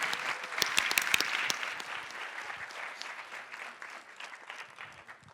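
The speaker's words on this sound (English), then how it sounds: "give Patrick a round of applause." An audience at a new student orientation breaks into a round of applause: dense, sustained clapping that is loudest at the start and slowly thins and fades, with no speech over it.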